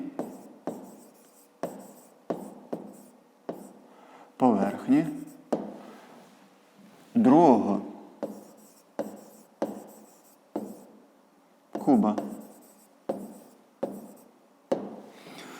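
Chalk or pen strokes tap and scrape in short rhythmic bursts while a math solution for a fifth-grade surface-area exercise is written out, a teacher's voice speaking between and over the strokes.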